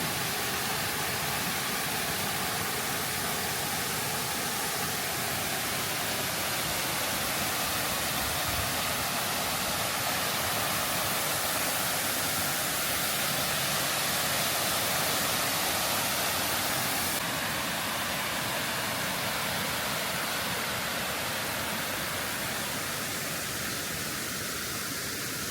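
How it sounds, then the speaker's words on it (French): Steady, even rush of a waterfall in the Jura, heard from close by as a constant broad hiss that holds at the same level throughout, with no voices over it. "Voilà, on est devant la cascade."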